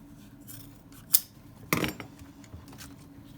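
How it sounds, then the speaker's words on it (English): Scissors snip across the material of a dog-chewed boot, giving a few sharp crisp cuts, one short bite and then a louder longer cut, close up in a quiet room with no talk. "I'm going to snip that all the way across there"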